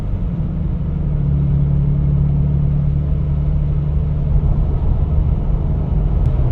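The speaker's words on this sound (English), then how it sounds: "that's all intake induction noise from the Rough Country cold air intake" A steady, loud low engine rumble from a Toyota Tacoma truck with a Rough Country cold air intake, airy intake roar holding evenly throughout, close and continuous with no voices.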